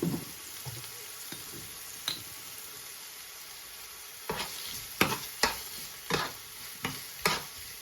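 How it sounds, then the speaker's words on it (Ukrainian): Button mushrooms (champignons) sizzle in a pan under a steady frying hiss, with a series of sharp clacks and scrapes as they're stirred, no voices. "грибочки в нас смажаться вже хвилин 10"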